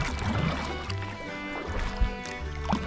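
A kayak is paddled downstream on a river, with gentle paddle strokes dipping and swishing through the water at close range and a few soft sloshes between them.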